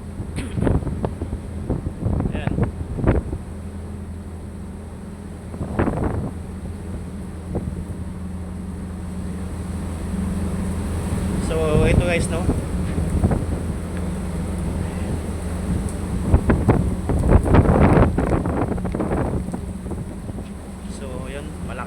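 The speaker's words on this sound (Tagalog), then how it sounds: "malakas na yung hangin, no? Pakinggan nyo yung hangin guys, ha?" Strong typhoon winds from Typhoon Tino roar across mountain terrain, buffeting the microphone in steady gusts that swell louder toward the end, while someone talks briefly over the blustery rush.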